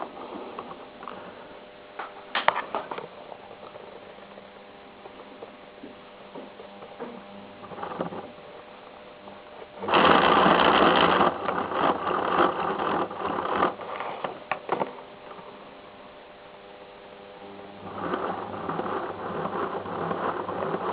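A small Escap electric motor with a fine pinion drives a model shunting locomotive, giving a close, continuous whir with rapid ticking mechanical clatter that swells louder midway, then eases and picks up again.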